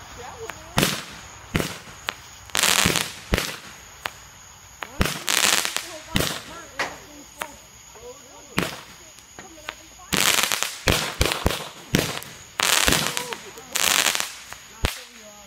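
Fireworks and firecrackers at a backyard celebration bursting in rapid succession, sharp loud bangs and crackling pops scattered irregularly throughout, with people talking and shouting nearby between the explosions.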